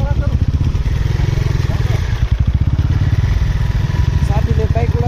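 A friend's motorbike revs and rides close by, its engine a loud, steady throbbing drone with pulsing exhaust through the whole stretch and brief shifts in pitch, while people talk over it.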